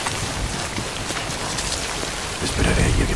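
Steady heavy rain pours in the video game Death Stranding, a dense wash of drops with low thunder rumbling underneath and swelling louder near the end.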